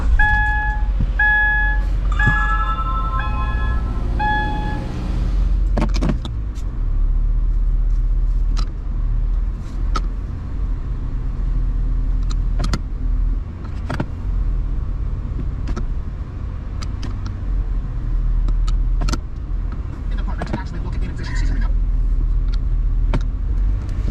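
A 2015 Subaru Impreza Sport engine idling steadily after starting, a low continuous rumble with a short series of electronic chimes at the start and occasional clicks.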